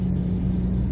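A 2001 Ford Focus with a faulty shift solenoid runs at a stuck, raised idle, making a steady, close, even engine hum that holds for a brief second without voices.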